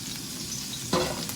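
Oil heats and sizzles in a stir fry pan, a close, steady crackling hiss with a brief louder burst near the end and no talk.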